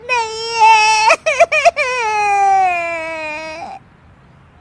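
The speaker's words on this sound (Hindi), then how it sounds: "उसकी रोने की आवाज सुनकर सभी वहां आ जाते हैं।" A woman cries and sobs loudly and close by, with a long wavering wail broken by a few choked catches of breath. A brief spoken line comes before the crying trails off into quiet.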